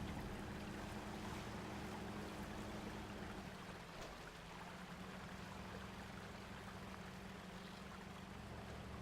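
A river current flowing in the off-road driving game Spintires: MudRunner, a steady broadband rush of water heard at low level alone, with a faint engine drone beneath it.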